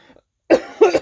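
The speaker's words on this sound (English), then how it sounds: "You guys don't need to be listening to more coughing" A sick person with a failing voice coughs twice, close and fairly loud, the second burst longer and rougher, after a near-silent pause.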